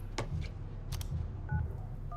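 Short tonal phone keypad beeps heard inside the video game FIFA 19, a couple of brief two-tone presses near the end over a steady low background hum, with a few clicks earlier.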